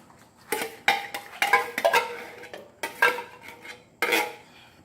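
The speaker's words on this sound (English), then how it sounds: "Stir that good so it all blends." A utensil stirs tomato puree sauce in a metal pot, giving a run of close, scraping and clinking strokes in irregular bursts with quiet gaps between, no talking.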